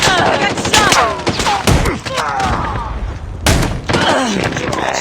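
Rapid gunfire bursts and thuds from a first-person shooter video game crackle loudly and close throughout, with voices talking over the shooting.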